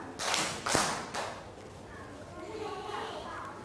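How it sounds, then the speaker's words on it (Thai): Two loud claps in quick succession from a group of children in a classroom recreation activity, followed by quieter murmuring of children in the room. "กลุ่มที่สองปรบมือสองครั้ง"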